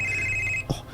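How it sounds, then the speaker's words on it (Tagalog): A telephone rings with a steady electronic tone that stops abruptly, followed by a brief soft knock or click. "Si Moana, sigurado ko nga siya ang nanawag."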